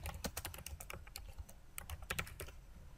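Rapid clattering keystrokes on a computer keyboard, close and fairly quiet, tapping in an uneven run of dense clicks with brief gaps, no voice over it.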